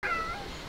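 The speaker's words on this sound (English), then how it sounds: "And the cats are in the gates while I am cleaning." A single short cat meow rings out close and clear, a brief tonal cry that fades quickly.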